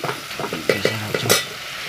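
Turmeric goes into a hot frying pan, giving a close sizzle with a few quick scraping stirs and utensil knocks and a burst of hissing near the end, short and unaccompanied by speech.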